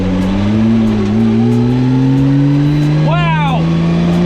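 A 1200hp 2JZ-swapped Nissan 240SX accelerates hard from inside the cabin, the engine drone climbing steadily in pitch and then a rapid gear-change flutter, loud and close with excited voices over it.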